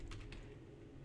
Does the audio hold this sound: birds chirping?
no